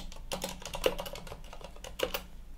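Keys clack on a computer keyboard as a sudo pacman command is typed, a close, light series of uneven taps with a few sharper strokes.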